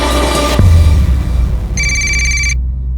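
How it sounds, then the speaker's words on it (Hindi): A mobile phone rings inside a house, with a loud electronic ring over steady low background hum that stops abruptly. "घंटी की आवाज आ रही है अंदर से, फोन तुम्हारा है?"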